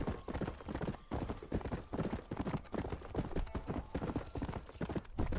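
Steady clip-clop of horse hooves at a riding pace in the Western video game Red Dead Redemption, close and continuous for several seconds with no talk over it.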